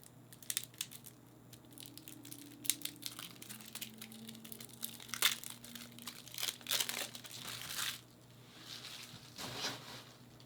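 Packaging on a tuck box of cards being opened, with close crinkling, crumpling and tearing of wrapper over a faint steady hum, coming in uneven bursts with short pauses.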